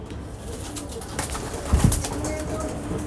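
Pigeons coo softly nearby over a steady background, with a brief low rustle like wings shifting partway through.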